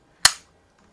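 A single sharp, short crack from a vintage Crosman air gun firing a pellet indoors in a garage, a quick snap that dies away within a fraction of a second, alone and without talk.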